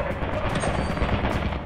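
Rapid automatic turret fire in Lethal Company, a dense, continuous burst of gunfire that stays loud and close throughout, with no talk over it.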